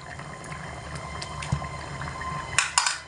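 A pot of moong dal with papaya and potato simmering close by, a soft continuous bubbling with a few brief clinks near the end, and no voices.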